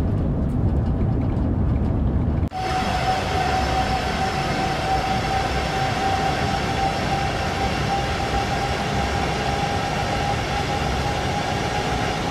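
A Union Pacific train in the game Train Sim World 3 rumbles steadily and loudly throughout, with a sharp shift in tone partway through as a sustained hum joins the continuous rolling noise.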